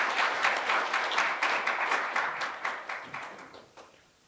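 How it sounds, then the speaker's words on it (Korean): Council members in a district council plenary session give a round of applause, a dense burst of clapping that gradually thins and fades out toward the end. "다 같이 우리 격려의 박수 한번 드리겠습니다."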